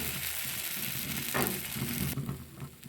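Kadalekalu (chickpea) masala dosa batter sizzles on a hot griddle, giving a steady, close frying hiss that stays loud throughout with a brief surge in the middle.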